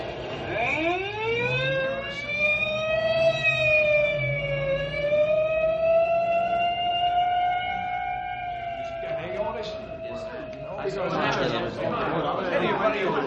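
Ambulance siren wailing in long rising and falling tones as the vehicle pulls away, fairly loud, followed by a burst of rough noise near the end, with voices chattering beneath it.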